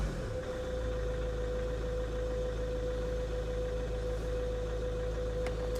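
A car engine idles steadily, with a brief rev toward the end, close and continuous with no talk over it.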